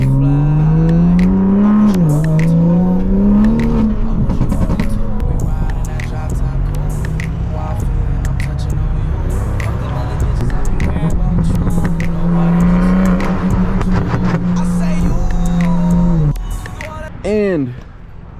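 Toyota Supra driving, its engine note rising and shifting through revs at close range with some tire and road noise, engine dropping away near the end.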